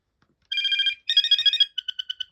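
A Binatone Icarus 2100 cordless phone plays its electronic ringtone: two sustained trilling bursts followed by a run of short staccato beeps, loud and close in an otherwise quiet room.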